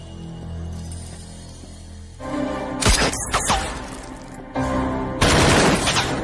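Gunfire in an Indonesian film shootout between a Densus 88 counter-terror team and terrorists, loud bursts of rapid automatic shots with sharp cracks that come in clusters over a tense musical drone.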